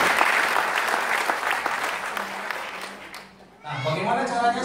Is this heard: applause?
yes